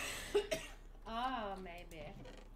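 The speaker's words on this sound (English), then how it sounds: "I just have to cough." Two short coughs from a person streaming a modded Minecraft session, close to the microphone and in quick succession, followed by a stretch of speech.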